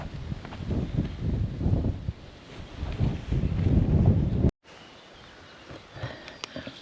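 Gusty wind buffeting the microphone on an exposed stretch of coast during a hike in Sweden, loud rough rumbling bursts that cut off abruptly, then quieter breezy noise.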